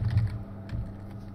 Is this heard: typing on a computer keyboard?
yes